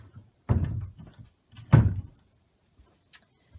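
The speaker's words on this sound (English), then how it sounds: "Hold on 2 moments while I just shut the door because my husband's on the phone." A door in a home craft room is pushed shut, with a shuffle and creak of movement followed by a solid thud, then a few small faint knocks and a short latch click afterward.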